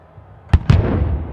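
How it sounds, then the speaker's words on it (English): Cannons fire a salute at the National Sports Stadium farewell for Robert Mugabe, two sharp booming reports in quick succession followed by a rolling echo. "in the salute of the cannons."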